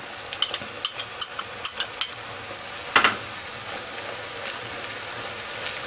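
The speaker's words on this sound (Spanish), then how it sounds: "Ahora vamos a añadir la cebolla." Onion frying with meat in a pan: a continuous oily sizzle under a run of quick utensil taps and clinks on the pan, followed by a louder stir and steady frying.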